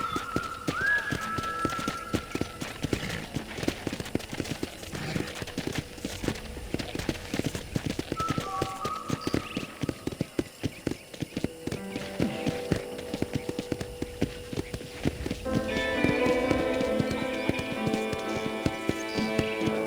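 Horse hooves clip-clop at a steady rhythm in the Western game Red Dead Redemption, a ride past a ranch and a general store, fairly close and continuous under light ambient game sound, with a brief whinny and some music near the end.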